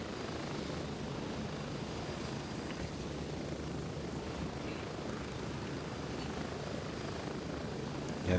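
A helicopter ride in the video game Grey Zone Warfare, with a constant, steady rotor and engine drone filling the background at moderate loudness throughout, without speech.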